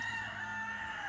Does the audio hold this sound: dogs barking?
no